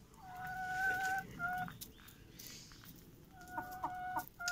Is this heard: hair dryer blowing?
no